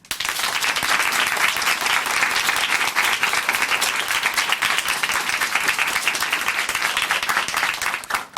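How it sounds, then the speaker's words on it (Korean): Sustained audience applause in a Korean Christian testimony program studio, dense, even clapping filling the whole stretch at steady loudness with no talk over it. "박수로 함께 응원해 드리겠습니다"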